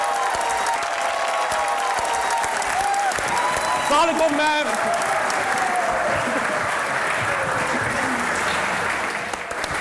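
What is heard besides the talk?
studio audience applause for guests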